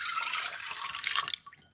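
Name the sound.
milk being poured into a mixing bowl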